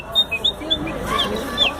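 Man imitating a bird with his voice, producing short high chirping whistles in a quick irregular series, close and fairly loud over faint background murmur.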